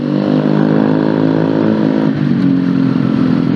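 Honda CBR motorcycle engine heard while riding on a mountain road, a loud, steady droning hum that shifts slightly in pitch partway through, with no talk over it.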